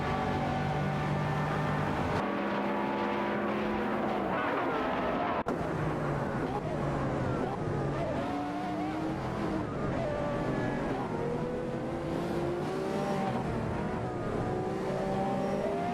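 Race car engines, including a Lamborghini Reventon and an Aston Martin, in an AI racing video game, with layered engine tones revving and shifting pitch continuously as cars contend for position, under a constant dense roar.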